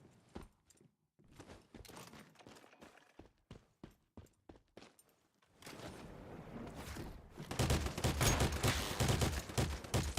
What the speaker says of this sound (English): Shooting at me with grenades